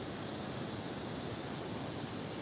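Ocean waves breaking and rolling onto the shore, a steady, close, continuous wash of surf with a broad hiss and a low rumble, with no voices.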